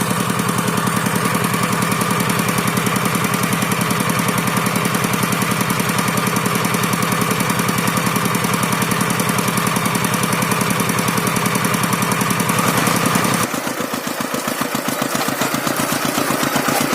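A tractor ploughs a hard, dry rice paddy with a loud, steady, rhythmic diesel chug. The engine pounds continuously up close, then its tone drops and changes near the end.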